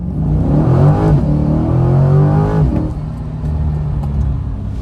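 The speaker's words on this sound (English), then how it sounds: "we have our big V8 just rumbling back there" The big V8 of a Chevrolet C8 Corvette rumbles steadily at idle, deep and close, with a brief swell in pitch before settling back to a low, even burble.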